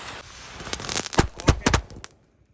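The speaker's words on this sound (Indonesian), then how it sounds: "Kita nyalakan mercon pretekan tor jumbo, ini 2 pak kita nyalakan sekaligus guys." Two packs of jumbo firecrackers lit at once crackle in a rapid burst of sharp pops and bangs, building to several louder cracks before stopping abruptly into quiet.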